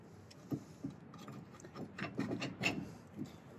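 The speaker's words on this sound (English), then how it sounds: "Now we can grab our caliper, slide it over the disc." Rear brake caliper on a Volkswagen Vanagon being slid over the disc during an Epytec disc brake conversion, giving scattered soft metallic scrapes, rubs and light clinks at close range with no talk.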